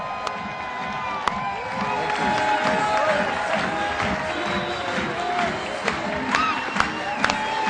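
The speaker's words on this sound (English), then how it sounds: "So please help me give a huge round of applause for Mr." An audience greets Keith Cunningham with loud applause and cheering, a dense roar of clapping, whoops and shouts that carries on steadily throughout, with a few sharper claps standing out.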